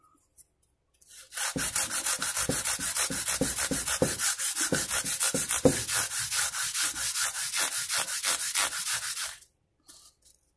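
Guitar frets rubbed on a 180 grit sanding pad make a loud, steady run of rhythmic rasping strokes, close up and with no talk, beginning after a second of quiet and stopping abruptly near the end.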